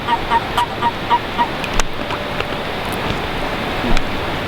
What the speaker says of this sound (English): a faint call that almost sounds like geese just starting to call, and actually that's the male western toads